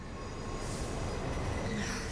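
Steady rumble of a New York subway train in motion, heard from on board as a constant low roar with faint rail noise, no talk.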